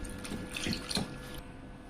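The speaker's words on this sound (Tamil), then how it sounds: "ஒரு 3 தடவை வாஷ் பண்ணிக்கலாங்க தண்ணி ஊற்றி நல்லா." Water is poured over homemade paneer, curdled with lemon juice, to rinse it: a faint, brief splash and trickle with no voices.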